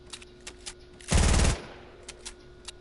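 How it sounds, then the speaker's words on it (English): P90 gunfire in the Fortnite video game: a single rapid burst of automatic fire lasting about half a second, loud and close, framed by fainter scattered clicks and game sounds before and after. "Take a few shots with the P90"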